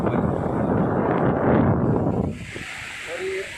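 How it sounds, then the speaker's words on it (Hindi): Broadband rushing water from waves on a rocky river near a riverside temple, loud and steady, easing to a softer wash with faint background sounds after a couple of seconds. "लहरों की आवाज़ आ रही है।"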